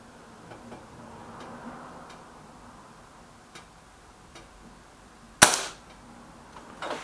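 A single sharp air rifle shot, from either a Kral Puncher K or a BSA R12 SLX, cracks out close and loud near the end, standing alone after a stretch of quiet with only faint ticking clicks before it.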